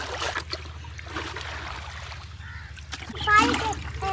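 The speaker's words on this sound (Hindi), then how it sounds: "पानी लगा रहा है" Water splashes and trickles close by as a small child plays, with a voice and adult talk mixed in and a louder splash near the end.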